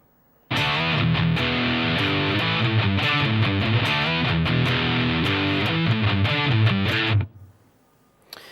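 Distorted electric guitar plays a full riff alone, loud and steady, with dense chugging notes for about seven seconds before cutting off into a ringing decay.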